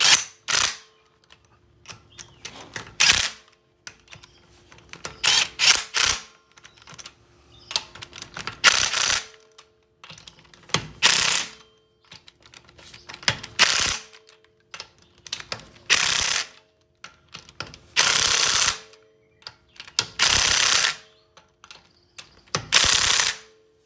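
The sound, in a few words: tightening wheel lug nuts in a star pattern on a Cadillac ATS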